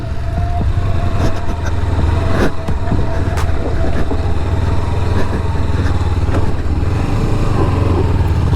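A Kawasaki Ninja 300 motorcycle grinds up a rough off-road hill track, its engine droning steadily and loudly throughout with a strong low rumble and occasional revving bursts, no talk.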